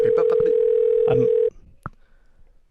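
Phone ringing during a recording: a loud, steady electronic tone holds for about a second and a half under talk, then cuts off, and a short beep follows before the tone starts again right at the end.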